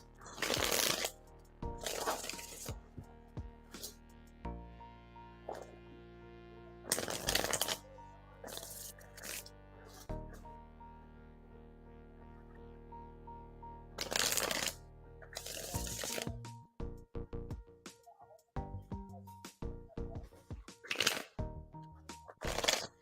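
Tarot cards shuffled by hand in bursts, crisp riffling and snapping passages separated by quieter gaps with soft handling clicks, close and clear.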